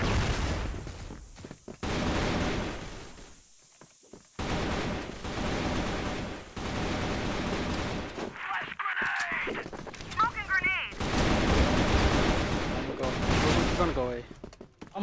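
Bursts of automatic gunfire in the online shooter Crossfire, with rapid volleys that come and go over about fifteen seconds while players talk over the shooting.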